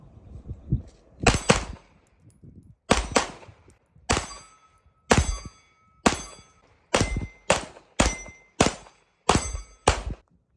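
A CZ TacSport2 Blue competition pistol firing about a dozen sharp, loud shots in a mostly steady cadence, each with a short echoing tail, a few quieter knocks at the start and no voices.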